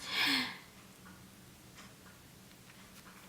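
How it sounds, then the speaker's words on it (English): Clocks ticking in a house: faint, regular soft ticks under a quiet room hiss, after a brief louder rustle at the start, with no talking. "oh, you can hear all the clocks ticking in my house"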